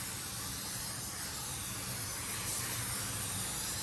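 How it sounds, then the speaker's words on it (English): Spray gun laying sealer onto a car door panel in a paint booth, a steady close hiss of spray that runs unbroken for a few seconds. "So I'm gonna start sealing from here."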